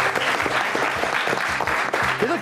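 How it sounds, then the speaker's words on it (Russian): Studio audience and rival teams clapping for the winning mechanics team at a televised quiz show, a steady dense round of applause with a low tonal hum beneath, filling the whole stretch. "Вам аплодируют зрители, вам аплодируют соперники."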